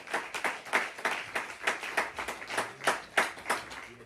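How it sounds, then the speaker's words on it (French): A church congregation claps for Jesus in a steady, rhythmic beat, each sharp clap ringing out loud and close at a lively tempo with no talking over it. "Applaudissez-moi Jésus"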